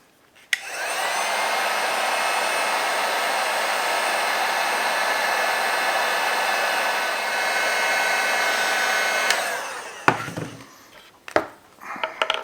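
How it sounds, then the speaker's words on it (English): A heat gun blows a loud, steady, close-up roar as it heats a PEX fitting. The roar cuts off sharply and is followed by a few light clicks and knocks. "if you just heat that up a little bit with your heat gun"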